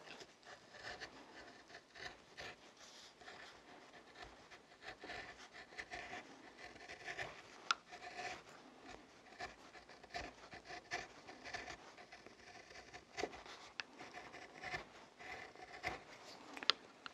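Knife strokes shaving a wooden butter knife by hand, a soft continuous run of rubbing, scraping cuts at close range, quiet and steady with occasional sharper scrapes.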